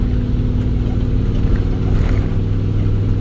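A truck engine runs at a steady idle, a close, continuous low rumble with a faint periodic throb and no clear revving.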